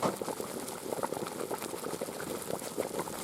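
Meatballs in a cauldron bubble and gurgle steadily at a rolling boil, close by, with no voices.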